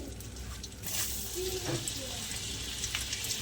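Garlic cloves frying in melted butter in a pan for soya chilli, giving a steady close sizzle with a few brief clinks and scrapes of stirring partway through.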